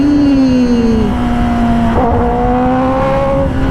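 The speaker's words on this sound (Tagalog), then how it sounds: "Napansin ko mga idol, mas masarap mag-downshift no? Kesa mag-upshift. Pakinggan nyo mga idol." A Kawasaki ZX10R KRT 2026 sport motorcycle engine downshifts on the road: a loud, close, tonal whine sags in pitch, then a sharp blip near the middle and a renewed climb.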